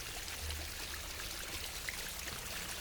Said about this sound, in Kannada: ಮೇಲ್ಗಡೆಯಿಂದ ಹರಿಯುತ್ತೆ ಅದು ನೀರು,